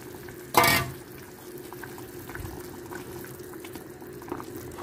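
Okra simmering in broth for a Yemeni bamiyah stew, with a brief louder splash of stirring near the start, then a steady low bubbling hiss throughout, with no talking.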